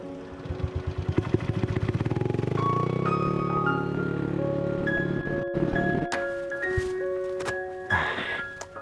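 A motorcycle that seems to be malfunctioning sputters and chugs in rapid pulses, then settles into a rough running drone, with clunks and rattles toward the end.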